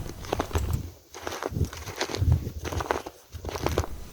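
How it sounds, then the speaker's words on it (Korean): Rustling footsteps crunch along a snowy mountain path in Korea, a steady walking rhythm of close, scuffing steps with brief pauses. "발자국 소리가 부스럭 부스럭 나면서 정감도 있네요."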